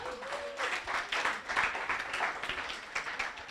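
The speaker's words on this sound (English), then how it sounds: "Big applause for Mallory." Soft, distant applause from an audience at a children's wildlife awards night, a steady patter of clapping lasting a few seconds after a young winner is announced.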